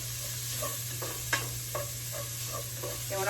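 Bacon fat sears and sizzles in a pot while cooking chili, a steady hiss punctuated by soft stirring clicks and scrapes, up close with no talk.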